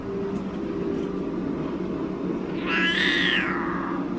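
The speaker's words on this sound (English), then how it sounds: "This is my Siamese cat. She's not in distress. She's just Siamese." A Siamese cat lets out a single drawn-out meow, rising and falling, over a steady low background hum.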